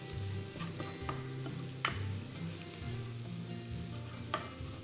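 Leeks sautéing in a pan with chicken and cornbread juices, a quiet, steady sizzle with scattered ticks and scrapes of stirring, close and alone.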